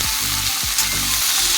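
Curry leaves, dried chillies and nigella seeds frying in oil in a wok, a close, loud crackling sizzle with a couple of sharp bursts as they spit.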